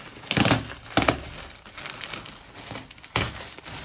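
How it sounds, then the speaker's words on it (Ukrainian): Parcel packaging is torn open and crinkled by hand in a few sharp, loud crackling bursts with quieter rustling in between, heard up close without talk. "мені прийшла посилка. Зараз розпакую разом з вами."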